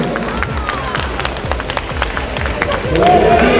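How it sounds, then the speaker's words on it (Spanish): A crowd claps steadily for the heaviest competitor, a man over 50, at a senior over-90 kg bodybuilding contest at Miss & Mister Peru 2023, with crowd noise and a low rhythmic thump beneath. "Podemos darle un fuerte aplauso al hombre más pesado de todo el evento"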